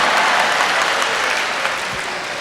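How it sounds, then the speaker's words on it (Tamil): Loud, dense applause from a crowd at a Tamil pattimandram debate speech, a continuous wash of clapping sustained throughout with no voice over it. "ஆனால் கைத்தட்டி கைத்தட்டி அங்கே சிவக்கிறது அவர்களது கரம்."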